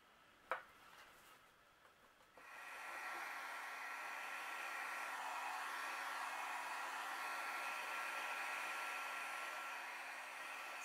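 An electric heat tool heat-sets embossing powder on card stock, turning on after a few small clicks and then blowing with a steady, close, continuous whoosh.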